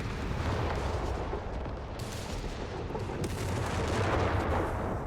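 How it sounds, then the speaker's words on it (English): Double mortar fire in a Company of Heroes 3 match on the Eindhoven map: rumbling, crackling battle noise with several thumping blasts, sustained and loud, with no voices. "Double mortar 250s."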